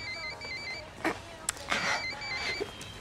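Telephone ringing indoors in a cartoon scene, faint repeated electronic ring tones under quiet background sounds, with a few short clicks and noises between them.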